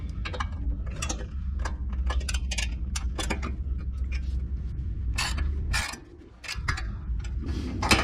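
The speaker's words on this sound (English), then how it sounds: "next we're gonna go back and start torquing down the step itself" A ratchet clicks in quick bursts while the running board step bolts are torqued down on a 2021 Nissan Titan Pro4X, steel bolts going into aluminum, close and crisp over a low hum, with a short pause near the end.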